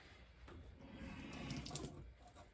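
Tap water runs steadily into a pan in a kitchen sink, a close, continuous splashing rush that swells and then eases slightly, with no voices.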